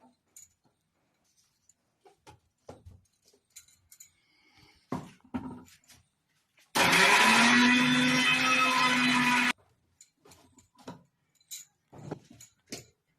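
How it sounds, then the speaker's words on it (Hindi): A mixer grinder grinds dried amla (Indian gooseberry) into powder in one loud, steady burst of about three seconds, set between quiet clinks and handling noises. "जो बची है वो धीरे धीरे करके मैं सारा पीस लूंगी और इसी प्रकार मैं सारे को मैं पीसूंगी"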